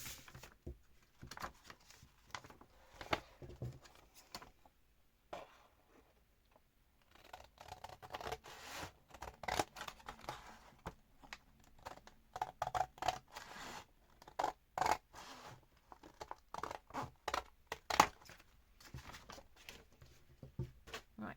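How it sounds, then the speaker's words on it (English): Scissors cutting paper held in place by a clip, a quiet close series of crisp snips and scraping slices in irregular bursts, with a short pause partway through. "just to stop the paper from moving around as I'm cutting"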